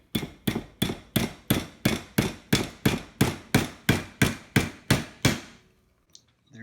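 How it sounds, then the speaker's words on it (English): Steady, evenly spaced hammer blows on a metal lag screw, bending it over to make a tent stake, about fifteen sharp strikes in a row, loud and close, then they stop. "We're just going to hammer this over."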